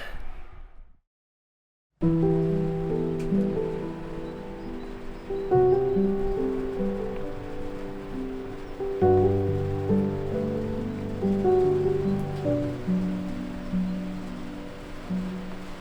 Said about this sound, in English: It is absolutely lashing it down with rain outside. It's quite nice because you've got the like pitter patter on the roof